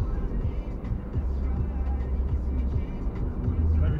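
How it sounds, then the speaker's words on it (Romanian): A car moving through Ploiești city streets gives a steady low engine and road rumble, heard close from within traffic, with a slight swell toward the end. "Mai ușor că e mașină"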